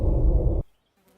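Short Prince of Persia video game sound effect used as a chat alert, a loud, dense burst lasting about half a second that cuts off sharply, followed by near silence.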